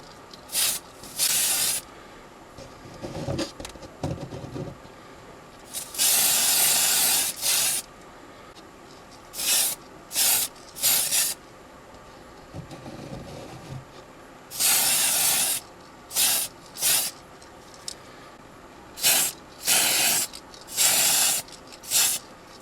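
Aerosol spray paint hisses onto the body shell of a Dinky Ovaltine model van in a dozen or so short and longer bursts, close and loud, with quiet gaps and faint handling noises in between.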